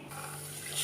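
Water poured into a pan of cooking plantain, a brief close steady rush of liquid lasting under a second, rising slightly at the end, with no talk.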